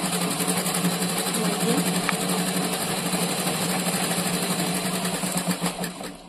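A sewing machine runs steadily while stitching a bag made from a rice sack, its drive belt set tight, giving a continuous close mechanical whir with fast rhythmic stitching and no voices.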